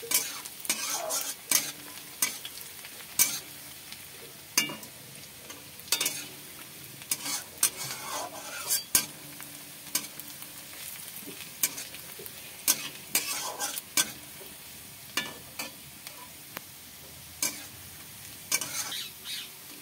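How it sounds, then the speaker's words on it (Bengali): Onion sizzles gently in a frying pan while a spatula stirs and scrapes against the metal in repeated sharp strokes, moderately quiet and close up. "আমার পেঁয়াজটা হালকা ভাজা হয়ে গিয়েছে।"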